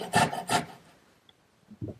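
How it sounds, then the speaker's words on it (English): Small dovetail saw cutting a corner notch in wood, giving two quick close rasping strokes, a pause of near silence, then a shorter softer stroke; no voices. "I'm going to use my little dovetailing saw."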